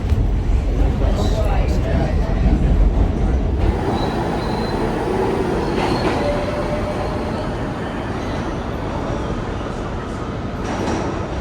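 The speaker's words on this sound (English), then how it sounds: "Let's just get on this train and see where it goes." A passenger train on the line to New Jersey pulls away, a loud steady rumble of wheels and rail noise filling the carriage, easing slightly after a few seconds with faint clicks and a door-like thud near the start.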